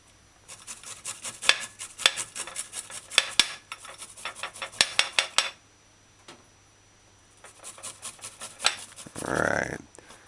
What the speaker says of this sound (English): Use a shredder and grind the garlic and ginger to